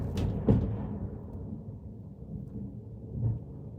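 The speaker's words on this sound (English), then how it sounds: "Y'all heard the thunder?" Low, distant thunder rumbles quietly, with a sharper crack near the start and a softer swell later, then fades into a long trailing murmur.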